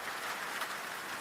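Steady rain falling, a dense soft hiss of drops without pauses, even and fairly faint throughout.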